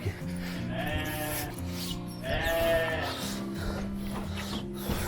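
Sheep bleat close by in a farmyard, several drawn-out wavering calls overlapping one another above a low, steady background hum.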